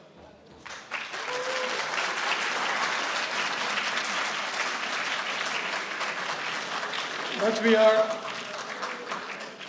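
Students at a dairy farming productivity workshop break into loud, sustained applause that fills the room for several seconds. A voice cuts in briefly near the end.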